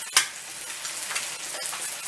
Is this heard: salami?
yes